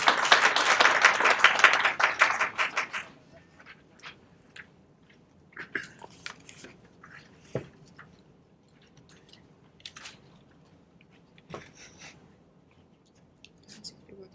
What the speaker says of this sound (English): A warm round of applause for Mark, please.